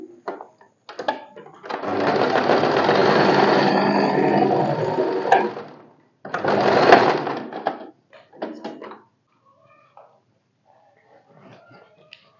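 A sewing machine joins two katori blouse strips with one long run of about four seconds, then a shorter burst, then faint handling sounds at the end.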